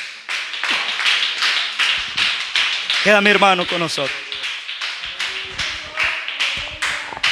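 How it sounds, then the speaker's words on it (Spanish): Rhythmic unison clapping from a church congregation praising the Lord, steady loud beats with someone speaking and singing over them midway. "Dele palmas al Señor."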